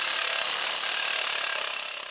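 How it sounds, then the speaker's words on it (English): A reciprocating saw cuts through steel pipe or rod with a steady, loud, rapid rasping buzz that stays close and constant, fading slightly at the end. "The reciprocating saw took 1:20 on the pipe, but only 30 seconds on the steel rod."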